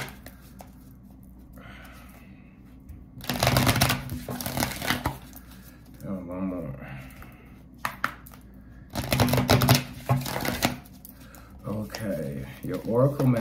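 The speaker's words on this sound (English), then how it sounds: "Give y'all a good couple shuffles." A deck of oracle cards is shuffled by hand in two bursts of rapid riffling and slapping, with a person talking at close range between the shuffles.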